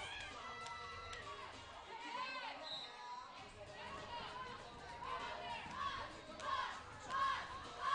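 A roller derby crowd cheers during a junior bout, Arizona against Los Angeles, a steady mass of shouting and chatter with excited voices rising and falling under continuous commentary.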